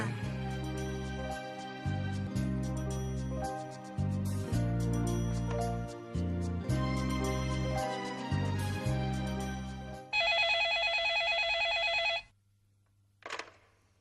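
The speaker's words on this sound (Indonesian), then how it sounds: "aku telepon Luna dulu ya" A telephone bell rings in repeated bursts on an incoming call, loud and close, sounding alone with no talk. A brief electronic tone follows near the end.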